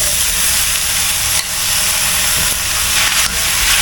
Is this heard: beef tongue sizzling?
yes